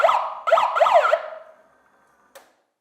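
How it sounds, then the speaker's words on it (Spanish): Ambulance siren of the Red Cross troops' medical service: three short, loud rising-and-falling wails in quick succession, then the tone lingers and fades, followed by a single sharp click, with no other sound around it. "y la sirena."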